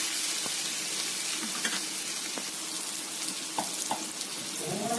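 Turmeric and salt being stirred in a frying pan, a steady close sizzle with occasional scraping ticks of the spoon against the pan, with no talking.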